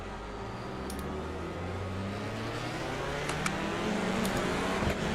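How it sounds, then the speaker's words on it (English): In an iRacing game, an Audi race car launches from the start at Silverstone, its engine note climbing steadily in pitch under a dense whir of other cars accelerating, with no talking. "Oh, that Audi takes off in that second part of the launch, doesn't it, Jono?"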